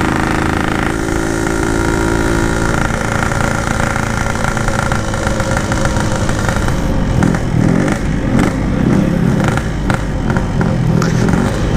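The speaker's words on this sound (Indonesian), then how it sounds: "Motor gue lagi nggak bisa lari." A Yamaha RX King motorcycle fitted with a loud aftermarket exhaust idles steadily up close, a rough, continuous throb that grows choppier and busier toward the end; no talk.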